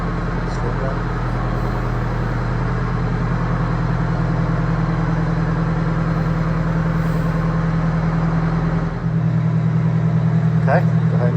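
A Prevost bus with a heavy Marathon conversion rumbles as it rolls out of a shop onto a scale, its diesel engine humming loud and steady, with a brief change in tone partway through and faint voices.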